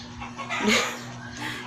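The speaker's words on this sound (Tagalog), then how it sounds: "Yan mga ingay ng manok." A chicken clucks a few times at close range, with a brief louder squawk in the middle, over faint background hum.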